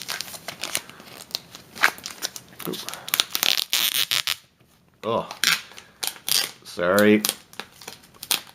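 Packaging for a Starfinder magnetic initiative tracker is torn and unwrapped up close, with crackling plastic and paper, crinkles and sharp snaps, and a person talking briefly partway through.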